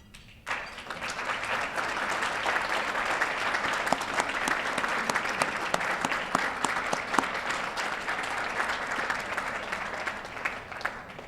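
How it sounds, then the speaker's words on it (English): A room of guests at a historical society's annual dinner gives sustained applause for the volunteers, a dense steady clatter of many hands held at an even level for several seconds with no talking. "please stand up for a round of applause"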